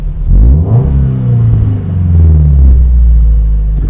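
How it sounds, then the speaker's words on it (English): A Toyota 86 fitted with a DC Sports cat-back exhaust revs up close and loud, its deep rumble climbing in pitch, falling back, then rising again. "I'll do a little rev here."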